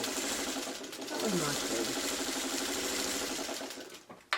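A sewing machine stitching through a quilt block pinwheel, running steadily at close range with a fast even mechanical chatter, slowing and stopping at the end as a voice speaks briefly.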